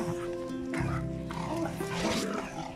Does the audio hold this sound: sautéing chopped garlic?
no